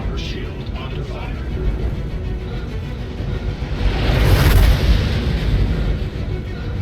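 Missiles striking a ship's shields in the space game Star Citizen, a loud rumbling impact swelling midway through a continuous roar of engine and combat noise.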